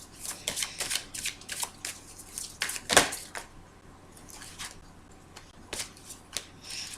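A tarot deck is shuffled by hand in quick irregular riffles and flicks, crisp papery bursts separated by short pauses, close and fairly quiet.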